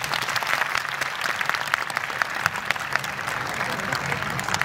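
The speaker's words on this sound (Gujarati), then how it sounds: "ઓકે ચાલો, બહેનો તાળી પાડશે." Women in the audience at a school annual function clap together in a dense, continuous round of applause that holds steady and fairly close for several seconds.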